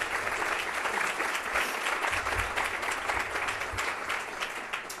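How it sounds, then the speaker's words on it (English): Audience applause at a Columbus Metropolitan Club forum: steady, dense clapping from a full room that continues loud and unbroken for the whole stretch. "So let's give them all a round of applause."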